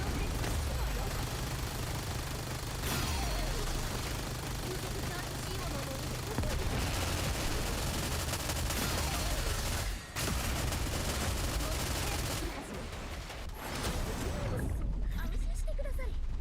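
Sustained, dense gunfire from a NIKKE solo raid boss fight, a continuous barrage of rapid shots and blasts with brief pauses, loud and close.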